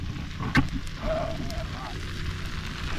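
An outdoor cooking fire crackles and roars softly beneath a pot of boiling seafood, including sea urchin and spider shell, with one sharp pop and someone speaking over the burning.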